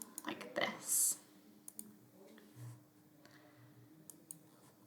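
Sharp mouse clicks from drawing lines and shapes in Adobe Illustrator come as a few quick scattered taps, close and fairly quiet, with soft faint background sounds.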